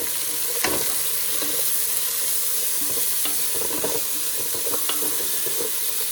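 Shallots with ginger, garlic and green chilli paste sizzle in a frying pan under a continuous hiss, punctuated by sharp spatula scrapes and clinks as the mixture is stirred; no voices.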